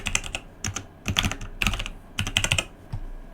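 A password is typed on a computer keyboard, several quick clusters of crisp key clicks in irregular bursts with short pauses between, close and clear in a quiet room.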